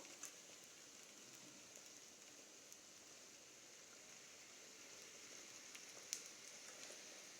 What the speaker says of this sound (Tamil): இப்போ நம்ம போட்டிருக்கிற புரோட்டாவை போட்டு எண்ணெய் விட்டுக்குவோம்